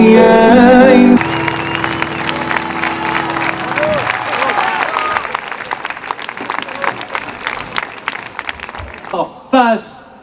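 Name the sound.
applause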